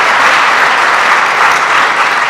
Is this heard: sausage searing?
no